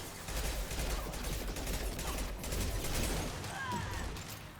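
Weapon fire in the video game Mass Effect 2, a dense loud stretch of rapid gunshots and battle noise, with voices faintly mixed in.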